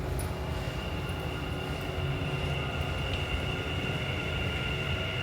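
A Dubai Metro train at Jebel Ali station, a continuous steady rolling rumble with a faint high electric whine, heard alone at moderate distance.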